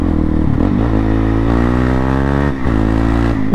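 A quad bike engine revs hard on an icy, snowy ride, its loud buzzing tone climbing through the gears with brief dips between shifts, close and steady with no talk.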